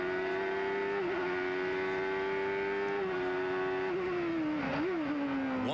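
A 1991 CART race car at Laguna Seca holds a loud, steady high-pitched engine note, with brief dips and a sharp blip near the end as it shifts gears, running continuously without talk.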